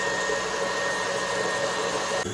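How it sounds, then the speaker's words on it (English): An electric mixer beating Jamaican black cake batter gives a loud, steady motor whine with a constant drone that runs without a break for the whole stretch and then drops off sharply just before the end. "Turn up your mixer a bit."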